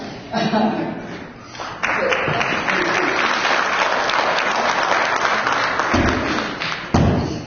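Applause from a crowd at a church gathering, a dense steady wash of clapping with a few thuds, and voices audible within it.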